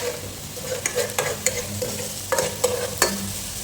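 Onions and tomato frying in a pan for mutton intestine curry, with a steady sizzle broken by repeated sharp scraping stirs from a utensil, close and moderately loud.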